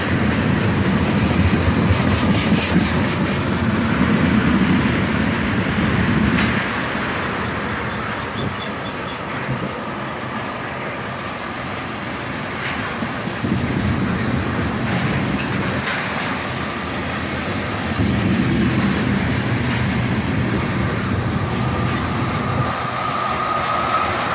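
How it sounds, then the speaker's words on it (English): A freight train slowing on a siding in Carlisle rumbles steadily with clattering wheels, brakes working throughout, the rolling noise swelling and easing in waves over nearly half a minute with faint high metallic squeal. "hear that metal squealing as it works to slow down this train"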